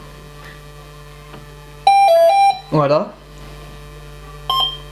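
A model aircraft electronic speed controller, set up for motor programming, gives a short run of clear electronic beeps and a later single beep, close and loud, with a voice speaking briefly in between.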